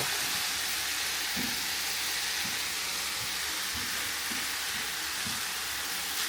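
Pork frying in a hot pan for Asian noodles, a loud, continuous close sizzle with occasional soft stirring scrapes, no speech.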